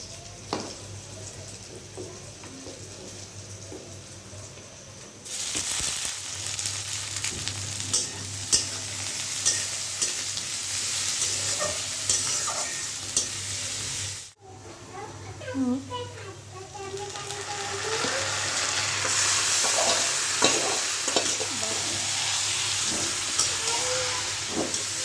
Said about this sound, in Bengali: মাংসের জন্য এদিকে লাল লাল করে আলু ভেজে নিচ্ছি,